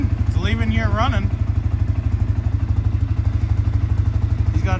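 A CFMOTO engine that arrived not running now runs steadily at about 1,500 RPM, its fast even firing pulse thumping loudly and close throughout, with someone talking over it for the first second or so.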